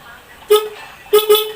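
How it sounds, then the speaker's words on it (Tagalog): A motorcycle dual horn honks in short bursts, one quick toot, then a double toot, loud and close with a steady low hum underneath. "Doon naman tayo sa ating dual horn mga boss"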